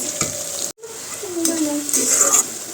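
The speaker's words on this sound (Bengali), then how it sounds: "পেঁয়াজটা আগে ভাজি তারপরে দিচ্ছি" Onion fries in hot oil in a pan, a loud steady sizzle broken by a brief silent gap, with stirring clatter and rising crackle toward the end.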